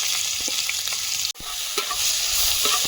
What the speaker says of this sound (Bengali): ওই তেলে দিয়ে দিচ্ছি রসুন করা